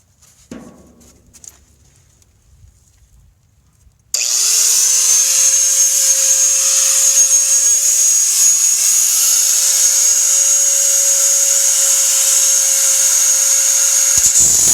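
A grinding wheel power tool, running without its guard, starts abruptly after a few quiet seconds and whines at a steady, loud, high pitch until it cuts off at the end.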